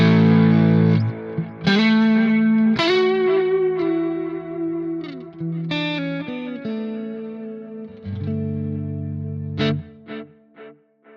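Electric guitar played through a Nano Cortex 80s chorus preset with analog delay and mind hall reverb, loud shimmering chords and single notes ringing out with lush modulation and long echoing tails.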